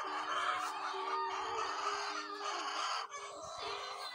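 Many laying hens cluck and chatter together nearby, a continuous busy flock sound with occasional louder calls and no speech.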